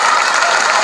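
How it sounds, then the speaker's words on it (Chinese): An audience claps loudly and densely for a kindergarten ukulele performance at a Mother's Day community celebration, a short, even burst of close applause. "掌声要大一点哦"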